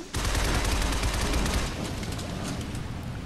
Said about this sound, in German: Aber ich schieße einfach blind nach oben